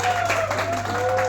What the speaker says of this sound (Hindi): एक जोरदार ताली बजाकर स्वागत करिए।